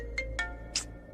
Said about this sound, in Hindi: अलार्म बज रहा है, उठिए